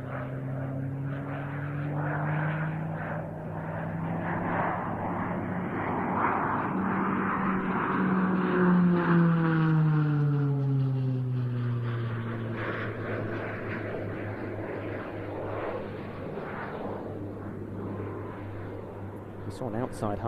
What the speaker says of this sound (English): the aircraft now stops the rolling motion the right way up and begins pushing again all the way through to inverted